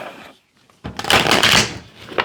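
A deck of tarot cards is shuffled close by in a quick papery riffle and slide, building after a short pause and trailing off, with no talk.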